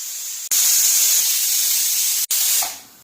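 A loud, sustained high-pitched hiss of steam venting from a pressure cooker cooking rice and moong dal, cut off briefly twice before trailing away.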